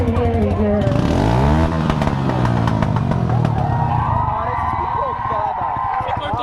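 A 250cc motorcycle engine revs up and settles in a loud, close buzzing drone, rising in pitch as it accelerates, with voices talking over it on a neighbourhood street.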